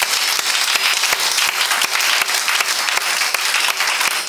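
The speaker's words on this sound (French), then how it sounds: "Acclamez pour Jésus." A church congregation applauding for Jesus, dense steady clapping that fills the room at close range, with a voice faintly under it.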